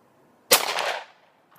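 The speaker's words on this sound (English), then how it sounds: "This is going to be a 50-yard shot at a bowling pin" A Smith & Wesson M&P pistol fires a single shot at a bowling pin 50 yards away, a loud sharp crack followed by a brief rolling echo that fades out.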